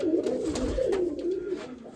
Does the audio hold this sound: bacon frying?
no